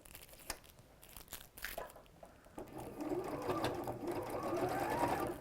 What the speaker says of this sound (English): And I'm top stitching about 1 centimetre in.